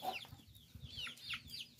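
A rooster clucks softly among free-roaming chickens in a yard, brief low clucks mixed with higher chirping calls, faint and somewhat distant.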